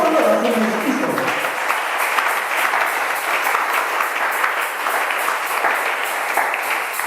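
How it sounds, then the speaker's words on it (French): A church congregation applauds Jesus in a steady, dense wave of clapping that goes on for several seconds, with a preacher's voice briefly heard over it at the start. "Acclamons très fort le Seigneur Jésus"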